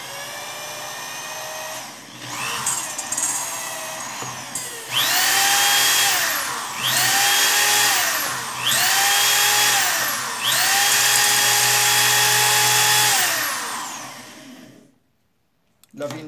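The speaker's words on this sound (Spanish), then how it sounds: "La finalidad del taladro es de que de pronto nos agiliza el trabajo." An electric drill laps the valves of an AKT 125 motorcycle engine, whirring in several repeated bursts that rise and fall as the trigger is squeezed and released, with talk beneath.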